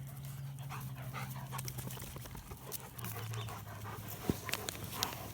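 A livestock guardian dog on a farm pants steadily nearby, quick soft breaths in a continuous rhythm with a few faint patters and small sharp clicks.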